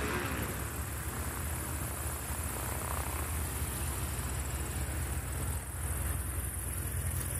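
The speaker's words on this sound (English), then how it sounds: "Trevor Smith taxiing by in the Aerobat, the Cessna 150 Aerobat" A Cessna 150 Aerobat light plane taxis past at a STOL event, its propeller engine droning steadily with a constant hum and high whine, fairly close and unbroken.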